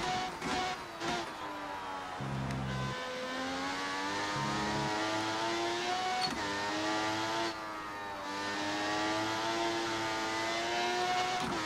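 Ayrton Senna's classic McLaren Formula 1 car in the F1 2018 racing game, the engine droning loudly and continuously at high revs with pitch rises and dips through gear changes, heard alone without talk.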